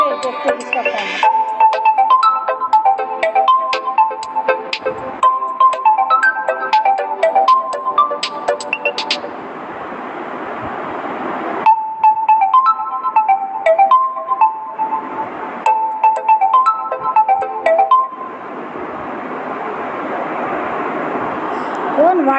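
A WhatsApp call ringtone plays on a phone: a bright, repeating melodic phrase sounds loudly in bursts, broken by short pauses filled with background room noise.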